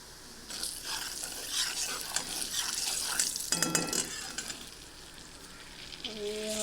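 Asafoetida dropped into hot ghee for a mango-seed mukhwas, bursting into a loud crackling sizzle with stirring clatter and a metallic scrape, then settling to a quieter steady fry.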